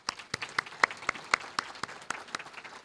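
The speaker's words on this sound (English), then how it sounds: "I think we should give them a round of applause." Applause from the audience at a Maine Healthcare Association recognition event, a small crowd clapping in a steady, fairly quick rhythm of distinct claps at moderate distance, without voices.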